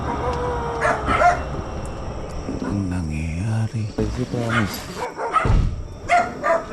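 Several dogs bark on a street at 2 a.m. in light rain, sharp repeated barks and yips at varying distances with crickets in the background, and someone speaks briefly over them.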